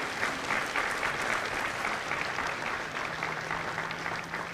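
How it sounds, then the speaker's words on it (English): Crowd at a Marine Corps recruit graduation ceremony at MCRD San Diego applauds recruiters and combat instructors, a steady dense round of clapping from a large outdoor audience. "a round of applause for our recruiters and our combat instructors"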